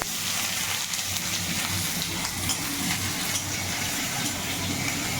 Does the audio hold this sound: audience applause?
no